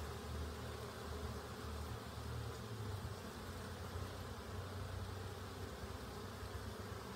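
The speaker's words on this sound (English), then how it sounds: "Look at them bees just suddenly go in there." A swarm of honey bees buzzes steadily at a hive entrance in an apiary, a dense, continuous drone of many wings close to the microphone, with no voices.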